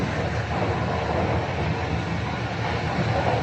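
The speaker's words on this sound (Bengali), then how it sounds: "ট্রেনের কিন্তু অনেক স্পিড বর্তমানে" A passenger train running at high speed, around 120 km/h, through open countryside in Finland, heard from inside as a steady, loud rumbling roar with constant rail noise and no voices.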